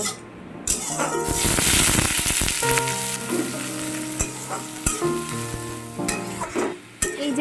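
Leafy greens cook in a wok (kadai), a loud, continuous close sizzle with repeated stirring scrapes and clanks of the spatula against the metal.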